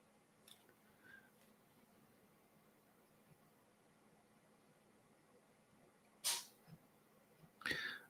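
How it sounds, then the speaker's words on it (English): Two short, sharp sneezes sound from a distance, muffled as if through a wall, against a quiet room hum. "That was a sneeze from the other room."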